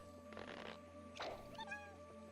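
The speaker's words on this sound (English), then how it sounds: "I love Pikmin noises" Small creature chirps and squeaky calls from Pikmin, a run of tonal warbles near the end, set over a steady game music bed at low level.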